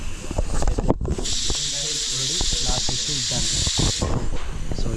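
A pressure cooker making pulao outdoors beside a dam lets out a loud, steady, high steam whistle that lasts a few seconds. Voices and other sounds are heard underneath.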